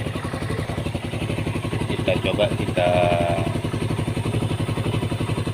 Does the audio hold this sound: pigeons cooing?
no